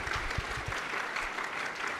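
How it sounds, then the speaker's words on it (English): Procedurally generated applause, a synthetic crowd-clapping effect played in a talk hall, gives a steady, dense wash of many hand claps at moderate level with no talking over it. "It's a procedural generated applause."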